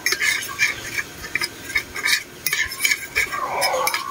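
Pancit canton noodles being stirred and mixed in a pan, with steady scraping and clinking of a utensil against cookware, a faint sizzle underneath, continuous and close.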